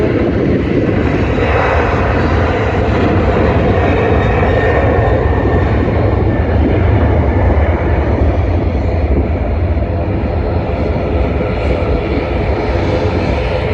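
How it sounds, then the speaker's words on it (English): A Ryanair Boeing 737-800 Next Generation on its takeoff roll at Manchester Airport, a loud continuous jet engine roar with broadband rumble, steady throughout and close. "You can see the Ryanair 737-800 next generation on a takeoff roll."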